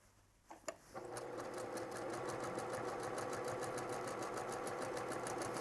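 Sewing machine stitching the elastic waistband of a skirt over a bulky seam: after a few clicks it settles into a steady, rapid, even mechanical whir that runs close and continuous to the end.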